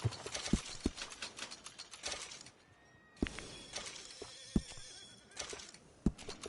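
A horse in Red Dead Redemption 2 neighs and whinnies near a stable amid sharp clip-clop hoof thuds and faint mechanical clicks, with a quieter pause midway before the snorting and stamping pick up again.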